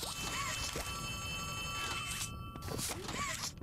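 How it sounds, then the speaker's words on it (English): Phone ringing inside the Poppy Playtime 3 video game, a repeated electronic ring over a steady dark ambient hum, with a person talking throughout. "There's a phone ringing."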